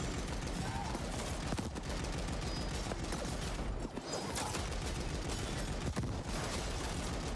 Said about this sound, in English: Something is shooting the shit out of me from over there with rockets, and I don't like it.